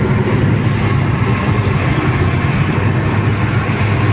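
A car cruising smoothly at about 100 on a highway in Saudi Arabia, heard from inside as a loud, continuous roar of engine, tyres and wind with no breaks.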